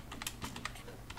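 A command is typed on a computer keyboard in a short burst of soft, quick key clicks, heard close and alone.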